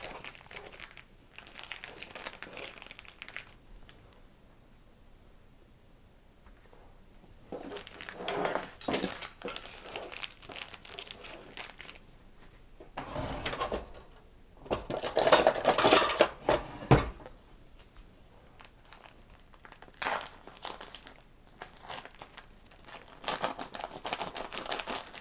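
A knife saws through a frozen pizza with a Digiorno croissant crust, pepperoni and cheese, giving scattered scraping and crunching bursts, louder around the middle, with clinks of metal against a pan and quiet gaps between cuts.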